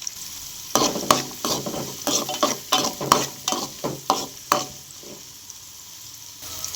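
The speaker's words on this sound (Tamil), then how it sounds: "கடுகு நல்லா பொரிஞ்சதும் கருவேப்பிலை அடுத்து பச்சை மிளகா அடுத்து சின்ன வெங்காயம் போட்டு நல்லா பொன்னிறமாக வதக்கிக்கணும்" Shallots, curry leaves and green chillies fry in hot oil in a pan, a steady close sizzle broken by a regular series of scraping stirs from a spoon, with no talking.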